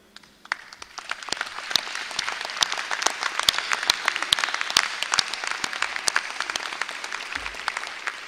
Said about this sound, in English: Graduates, please stand and join me for a well-deserved round of applause for our outstanding faculty and staff